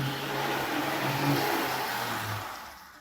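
Auscision model V/Line N class diesel-electric locomotive running on a layout, a close, fairly loud motor whir with a rising and falling pitch that fades out at the end.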